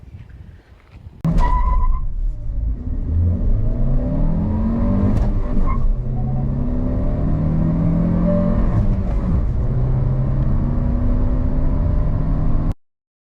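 A Hyundai Creta N-Line manual engine revs hard and climbs steadily in pitch through the gears during a 0-100 km/h test at full throttle, loud and close, with a brief tire screech at the start.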